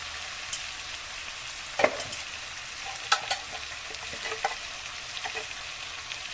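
Ground spices such as coriander powder and garam masala frying in hot oil for egg curry, a soft steady sizzle with a few sharp scraping stirs, close and alone.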